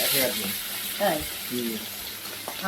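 Fish frying in very hot oil in a home kitchen, a steady, close sizzle and crackle that runs throughout while someone talks over it.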